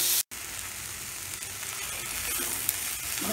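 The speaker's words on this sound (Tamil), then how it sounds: "வெங்காயம் நல்லா வணங்கணும்." Onions for chutney sauté in a pan with a steady, close sizzle that stays even and slightly strengthens across the short stretch.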